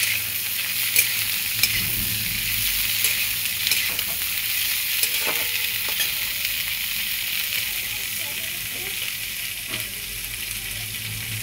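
Cauliflower paratha filling is stirred in a hot frying pan, a continuous sizzle and hiss with scraping spoon strokes against the pan, steady and close, with a few soft clinks.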